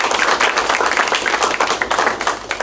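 Audience applause at a talk on illegal sand mining in India, a steady dense burst of many hands clapping, loud and continuous with no voices over it.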